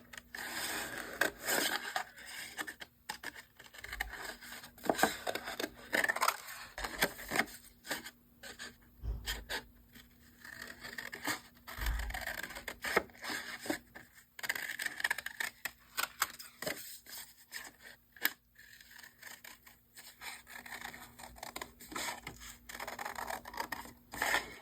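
Paper reindeer printables being cut out by hand with scissors, a steady run of close, soft snipping and rustling paper with brief pauses, no talking.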